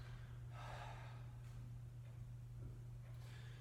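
Breath exhaled during a quarter squat hold, a couple of soft, close breathy gusts over a low steady room hum.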